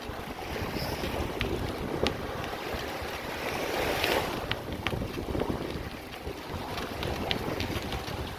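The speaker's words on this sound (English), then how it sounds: "Probably hear the sound of the wind." Strong wind gusts batter the microphone on a Florida beach at Lover's Key while riding a bicycle into a headwind, a steady loud roar with bursts and surf faintly underneath.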